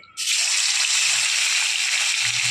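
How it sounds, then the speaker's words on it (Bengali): Rohu fish pieces, rubbed with salt and turmeric, drop into hot mustard oil in a wok and burst into a loud, close, steady hiss that holds without letup. "মামনি এবার মাছগুলো ভাজতে দিচ্ছে কড়ার মধ্যে।"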